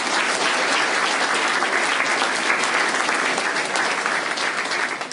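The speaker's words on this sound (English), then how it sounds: "So please give all of those people a round of applause." Steady, loud applause from an audience at a political announcement event fills the space, continuous dense clapping that holds evenly and tapers slightly at the very end.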